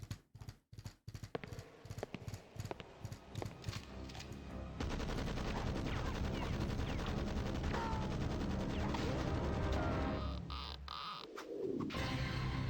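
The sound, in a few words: gunfire in a DOS video game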